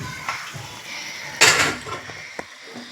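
Metal clatter of goat intestine dropped into a kadai, a loud sharp clank in the middle with lighter clinks before and after.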